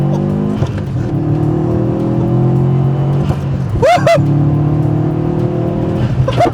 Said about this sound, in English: I can't get over this intake noise and exhaust